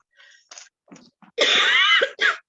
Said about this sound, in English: Please excuse my cough, y'all.